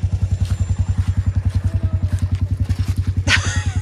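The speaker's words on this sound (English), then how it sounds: "Sid, Mike. and Frankie is driving the tractor away as we speak" A tractor engine chugs in a steady, rapid low-frequency rhythm, loud and close, as it drives away in a garden, with a brief clatter near the end.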